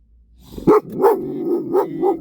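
A dog barks repeatedly inside a car, five sharp, fairly loud barks at an uneven pace over a steady low rumble, with no talking.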